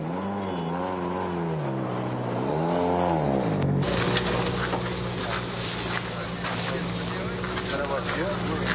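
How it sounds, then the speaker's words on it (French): A rally car engine runs rough at the 2005 Swedish Rally on an all-ice stage, with a wavering drone giving way to a loud, steady, close engine roar beneath continuous talking. "En plus on a des petits soucis moteurs là, ça tourne plus très rond"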